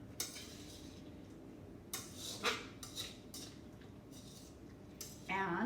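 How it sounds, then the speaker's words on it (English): A utensil stirs Korean beef stir fry in a pan, making a few scattered scraping clinks against the pan over a quiet background. "Now we'll give it a little stir."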